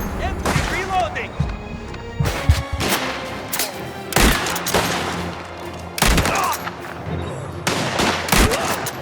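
Gunfire in the video game Mafia: The Old Country, loud bursts of shots in quick clusters with sharp cracks repeating every second or two, mixed with shouting voices.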